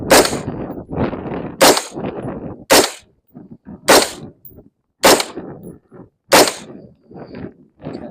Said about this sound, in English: let's go ahead and give it a shot and see what we can do against this piece of wood